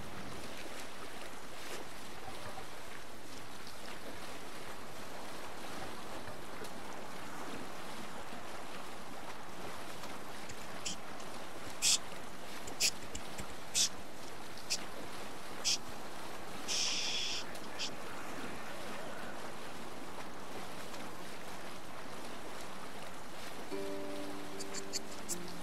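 A Viking longship being rowed at sea in Assassin's Creed Valhalla: a faint, steady wash of waves and wind, with a few light knocks and a brief voice near the end.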